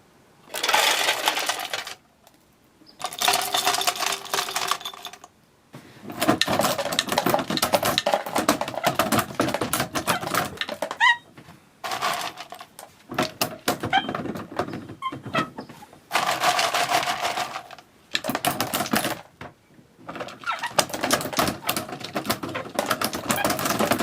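Black walnuts being cracked in a grain mill with its plates set about a quarter inch apart, a loud grinding, crunching clatter running in long bursts separated by short pauses, with no talk.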